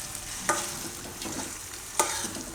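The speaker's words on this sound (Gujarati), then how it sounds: "અને મિક્સ કરી લઉં ઘીમાં." Green chickpeas being stirred in ghee in a pan, a soft steady sizzle with two sharp scraping strokes of the spoon, close and alone without talk.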